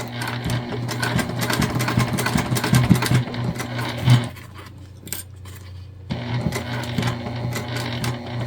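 Sewing machine stitching a small bag of clear and jelly vinyl, fast rhythmic needle clatter in two bursts broken by a short pause, close and loud, with no talk.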